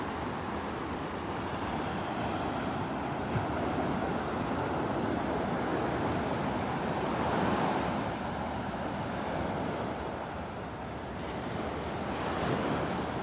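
Ocean waves breaking on a beach in North Naples, Florida, a loud continuous wash of surf with gentle swells and wind buffeting the microphone, no voices.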